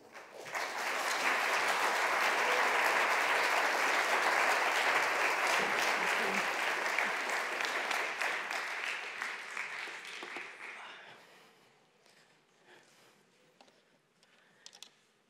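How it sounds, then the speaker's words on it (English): Evening lecture audience applauding as a speaker is welcomed to the floor: dense, loud clapping that swells quickly, holds steady for several seconds, then thins and fades to scattered claps and quiet room noise. "je vous demande d'applaudir"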